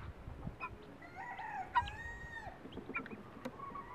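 A farmyard rooster crows once amid holiday feeding of poultry, a medium-distance call rising and falling over a background of clucking fowl and soft barnyard noise.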